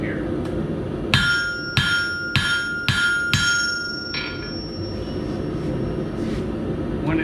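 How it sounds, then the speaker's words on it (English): Blacksmith's hammer strikes an iron nail, forging a smooth taper toward the point: five sharp, ringing blows roughly half a second apart, close and loud over a steady background roar of forge or fan, then fainter taps. "I'm using overlapping blows and forging towards the point so that I get a nice smooth"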